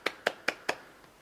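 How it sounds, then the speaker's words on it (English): Four soft, evenly spaced hand claps land in quick succession, close and gentle, followed by a faint trailing tap in a quiet room. "I would clap louder, but obviously I'm not trying to blow people's ears off"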